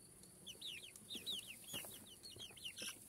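Chickens and young birds in a henhouse give faint, quick high-pitched peeps and soft clucks in scattered bursts, with no talking.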